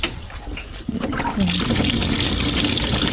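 Water suddenly bursts out and gushes steadily and loudly from a hose, following a brief quieter trickle, recorded close by.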